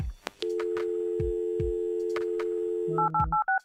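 A telephone in the Kathy Rain video game gives a long steady dial tone broken by short clicks, then a quick run of distinct keypad dialing beeps near the end, clear and close with no talking.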